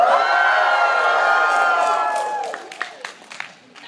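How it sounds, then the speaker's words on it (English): An audience at a Comikaze 2014 convention panel bursts into loud cheering with whoops and shouts, sustained for a couple of seconds before fading into scattered claps and a few lingering calls. "when I say that, you guys cheer and be like, yeah"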